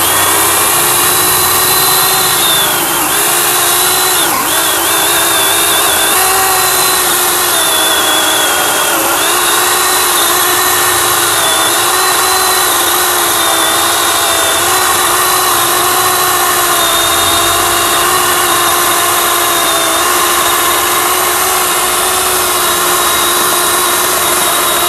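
A Dekton 42V cordless chainsaw cuts through a thick tree stump, its motor whining at a steady high pitch with a constant loud buzz that barely changes for the whole stretch.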